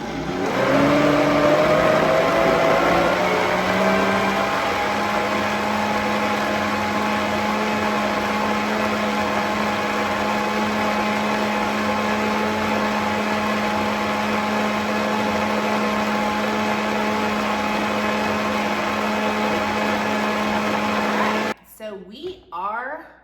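A blender puréeing chile verde sauce, a loud steady motor whine that spins up at the start and holds for about twenty seconds before cutting off, followed by brief handling clatter.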